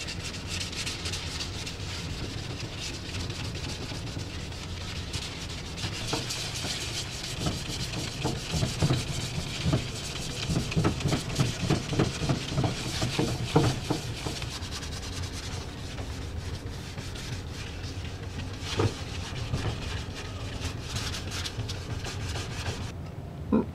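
Hand sanding a motorcycle fuel tank with 600 grit sandpaper on an FZR under restoration, a steady close scratchy rubbing that runs continuously, with strokes quickening in the middle and no talk.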